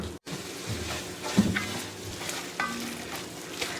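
Pulled pork warming in a pan with green pepper and onion for a keto pork verde chili, a soft steady sizzle with stirring scrapes and a few utensil knocks, close and moderate, no talk.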